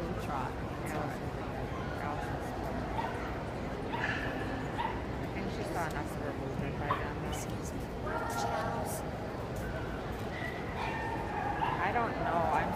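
A young puppy on a table gives repeated yips, barks and whimpers, fairly close and continuous over steady background noise, with people talking nearby.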